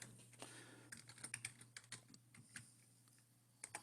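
Rapid, irregular keystrokes on a computer keyboard, clicking in uneven bursts for several seconds, fairly close and quiet with a faint steady hum underneath and no talking.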